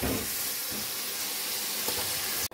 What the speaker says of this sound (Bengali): এবার আলু আর পটল দুটোকেই ভালো করে কষিয়ে নিই